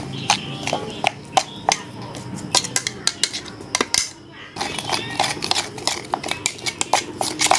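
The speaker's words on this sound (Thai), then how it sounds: "คนให้เขาไม่เป็นก้อนนะ" A spoon clinks and scrapes against a pot while stirring rice flour into coconut milk, quick irregular metallic taps close by, with a brief pause midway and someone talking in the background.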